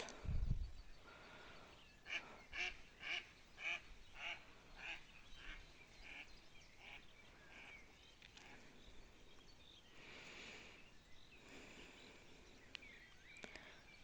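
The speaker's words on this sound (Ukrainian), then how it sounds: "качки дикі." A series of nasal wild duck quacks repeats in a loose rhythm, moderately distant, then thins out into fainter calls against outdoor ambience.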